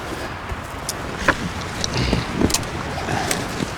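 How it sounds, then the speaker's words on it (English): Wind blowing through a small mountain canyon in the Bridger Mountains, a steady broadband rush with gusty swells and scattered buffets against the microphone, no talk. "that wind kind of just suddenly appeared"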